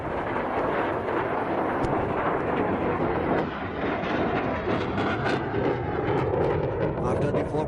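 A JF-17 Thunder fighter jet rolls at an air show, a loud, continuous broadband roar that holds steady throughout with faint talk beneath it.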